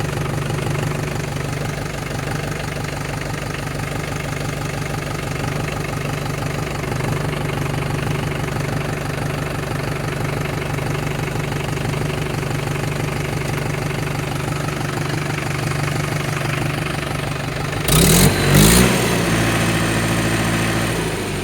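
A Mahindra 475 tractor engine runs at a steady idle with a low, even diesel throb, close by in light rain, then a short burst of louder clatter near the end; no talking.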